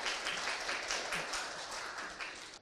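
Audience applause at a social service investment exchange meeting in Korea, a brief burst of steady clapping from a crowd in a hall that fades slightly toward the end.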